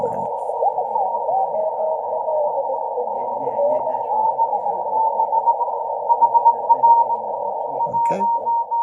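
A Yaesu FTX-1 radio in CW mode receives Morse signals through a dense band of hiss and tone that runs throughout, with clearer keyed pulses toward the end and faint handling noise.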